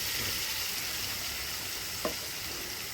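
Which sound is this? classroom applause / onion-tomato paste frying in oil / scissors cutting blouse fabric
onion-tomato paste frying in oil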